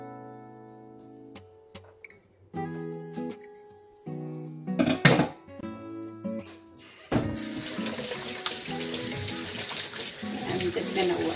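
Tap water runs over hands at a kitchen sink while a blueberry banana smoothie is prepared, starting with brief splashes and then a steady, close rush of water for the last few seconds, with no talking.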